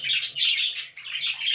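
Small cage birds chirp continuously in a breeding cage, a dense, fairly loud twittering of several birds with brief pauses, close by and with no talking.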